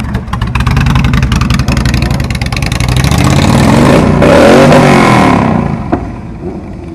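A Yamaha R6 motorcycle engine idles roughly and loudly up close, then revs up sharply to a high roar before dropping back down.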